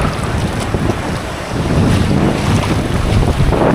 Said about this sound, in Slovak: No ten wiatr jest cholerny.